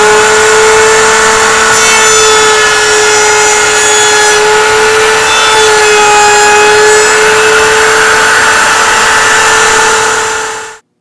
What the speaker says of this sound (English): Routering the edges of your sign using the table router.